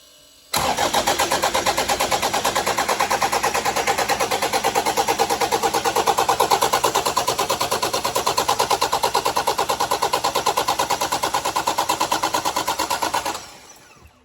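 A replacement 1KD-FTV 3.0 litre diesel in a Toyota Prado turns over and runs, a loud, close, rapidly pulsing engine sound held steady for several seconds before it dies down.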